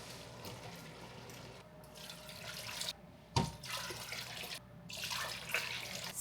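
Hot water poured from a tap into a pot for a bean and diced tomato stock, a continuous splashing stream with some louder clunks and surges, fairly quiet, no talk.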